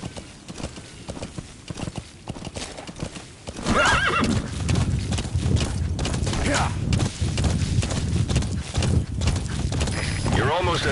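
Rapid hoofbeats of a galloping horse with a loud whinny in Metal Gear Solid V, over busy game sound effects and background talk, steady and close.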